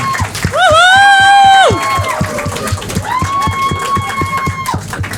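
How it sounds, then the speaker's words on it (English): A studio audience at a dating comedy show claps steadily for Priyanka, the crowd cheering and whooping loudly over the rhythmic clapping before it settles into a busy murmur. "Start clapping for Priyanka."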